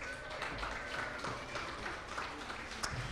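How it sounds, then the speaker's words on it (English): A dense, steady wash of audience applause fills a celebration gala for a North Carolina brain injury association, holding at an even level throughout with no distinct individual claps standing out. "So let's all give them a round of applause."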